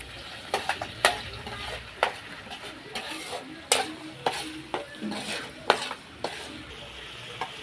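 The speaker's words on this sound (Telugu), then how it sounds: "ఇప్పుడైతే మన ఆయిల్ హీట్ అయిన తర్వాత మనమైతే ముందుగా చేసుకున్న కొబ్బరి పేస్ట్ దీంట్లో వేసేస్తున్నాం" Coconut paste for a country chicken curry fries in hot oil, giving a steady sizzle. A spoon scrapes and clinks against the pan at irregular moments throughout, and nobody speaks.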